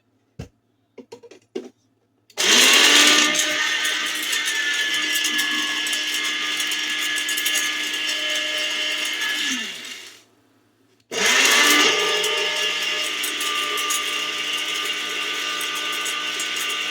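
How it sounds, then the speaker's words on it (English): A kitchen blender chopping a bowl of dried herbs for a cold and flu tea: a few small clicks, then a loud steady motor whir for about eight seconds, a brief pause, and a second equally loud run. "Just put it in your blender or whichever you have to use, food processor will work too."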